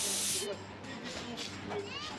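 Champagne sprayed on the podium after a European Truck Racing Championship race in Hungary: a loud, close hiss of spray for about half a second, then crowd noise and background voices.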